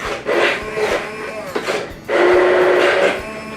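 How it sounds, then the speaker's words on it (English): A hand blender pureeing a vegetable pasta sauce gives a steady, loud whirring drone with a brief dip in the middle, then a higher, strained whine as the blades work through the thick mixture. "just get yourself a hand blender or immersion blender, whatever you want to call it. And let's go for puree."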